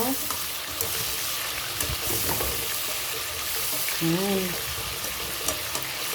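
Musaga, a Middle Eastern dish, frying steadily in a pan, with a continuous sizzle running throughout alongside faint clinks and a brief tonal sound partway through.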